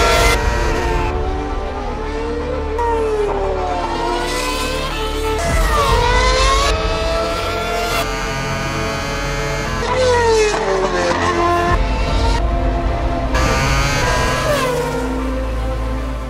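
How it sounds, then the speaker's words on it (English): A Formula 1 race car on the circuit at Valencia fires up and revs hard, repeated rising and falling high-pitched engine wails with sharp upshifts, loud and close, sustained throughout. "So let's start the engine and try to discover again the emotions F1 car can give."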